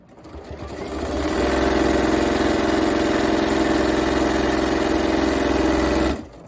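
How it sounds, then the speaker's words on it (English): M7 sewing machine stitching quilt binding at high speed, a close, even motor hum with rapid needle chatter that ramps up, holds steady, then winds down and stops. "The M7 sews really fast"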